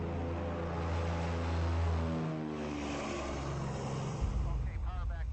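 Piston propeller aircraft, run at 46 inches of manifold pressure and 2,600 RPM, takes off and climbs out with its gear retracting: a steady loud engine and propeller drone with a harmonic rumble that changes pitch partway through.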